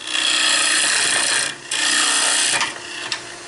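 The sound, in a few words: woodturning tool cutting into end grain on a lathe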